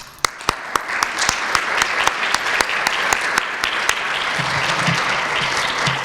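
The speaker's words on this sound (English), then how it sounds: "I would like to applaud the parents." An audience at a recognition tea applauds the parents, a dense, sustained round of clapping with a few sharp, evenly spaced loud claps standing out close by, and a voice faintly under it toward the end.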